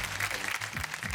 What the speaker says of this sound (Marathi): एकदा जोरदार टाळ्या स्नेहासाठी.